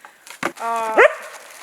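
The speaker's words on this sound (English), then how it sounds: "Dog's fired up." A dog at a cabin retreat lets out a short, harmonic bark followed by a rising yelp, close by, with a knock of wood just before it.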